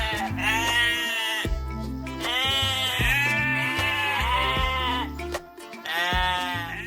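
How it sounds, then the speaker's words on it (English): A sheep bleating loudly and near, with several long, wavering baas in a row separated by brief pauses. "Look, it's a sheep."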